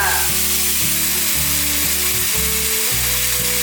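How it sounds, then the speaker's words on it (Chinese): Filling ingredients stir-fried in a wok for a vegan tomato and pomelo dish, a loud constant sizzle over repeated rhythmic scraping and clanking strokes of the spatula. "所有食材都炒熟了，炒香了"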